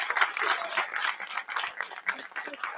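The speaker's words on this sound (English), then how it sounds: "May we please have a huge round of applause for everyone." Fairly faint, scattered applause from a conference audience at a heritage management event, with uneven clapping that rises and dips throughout.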